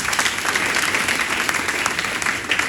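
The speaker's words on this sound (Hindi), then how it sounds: "बात जोरदार ताली होनी चाहिए आपको" A seated audience breaks into loud, dense applause, many hands clapping continuously at an even, full level from start to finish.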